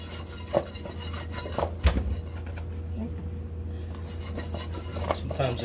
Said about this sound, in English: And now we're gonna just mix these up.